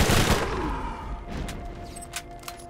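Incendiary repeater pistol fire in Borderlands: Enhanced Edition, a loud opening shot followed by a few fainter, scattered reports and crackles over busy game ambience.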